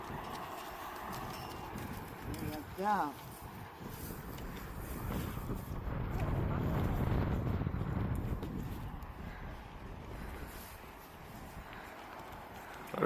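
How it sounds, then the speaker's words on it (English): A group of big, healthy riding horses walk along in Trinity Bight, Newfoundland, their hooves clip-clopping faintly and unevenly outdoors amid wind noise and soft background sounds. "Beautiful group of horses, nice and healthy and strong."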